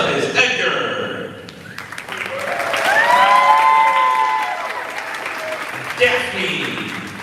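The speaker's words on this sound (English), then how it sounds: "Feel free to applaud for them." Audience applause at a school concert with graduating performers: steady clapping from a crowd swells and fades over several seconds, with a sustained musical tone ringing beneath and a voice briefly audible.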